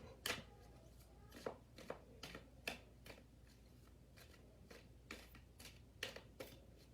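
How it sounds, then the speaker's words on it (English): Tarot cards are shuffled in quick riffling bursts, each a short crisp flutter, repeating at irregular intervals in a quiet room. "Tell me when to stop shuffling."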